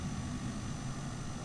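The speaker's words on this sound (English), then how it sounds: "That was that plane that was taxiing a little earlier." An aircraft in Microsoft Flight Simulator passes near the airfield, giving a steady broadband engine roar at full, even loudness throughout with no voices.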